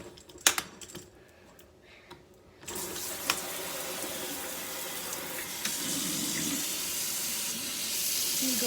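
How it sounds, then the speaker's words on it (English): Tap water runs from a kitchen faucet: a few light clinks and knocks come first, then the tap opens into a steady, rushing stream that continues to the end. "you take your tap water"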